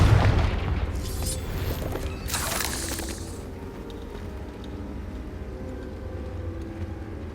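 Confringo fire spell blasting in Hogwarts Legacy, a deep booming burst at the start with a crackling, shattering tail that fades into low rumbling ambience.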